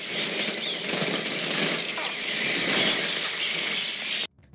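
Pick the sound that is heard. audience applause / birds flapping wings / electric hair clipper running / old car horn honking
birds flapping wings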